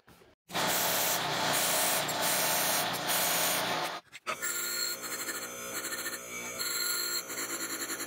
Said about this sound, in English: I just hit it with the belt grinder again, and then the wire wheel